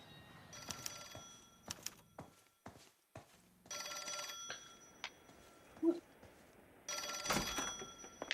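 An old-fashioned telephone bell rings in bursts inside an LA Noire game scene, several loud ringing stretches separated by pauses with footsteps and soft thunks between them.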